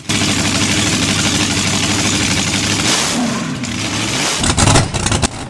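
At Welch's Dam pumping station, the 1948 Allen 6S37 500 horsepower oil engine used for fen drainage throbs loudly and evenly, its tone shifting midway, with a few sharp clattering bursts toward the end.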